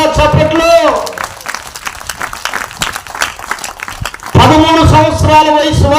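An audience applauds loudly for several seconds in a dense, steady wash of clapping, with speech before and after the applause.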